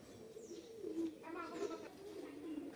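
Pigeons coo softly and repeatedly, close by, with a few faint higher chirps mixed in over a quiet background.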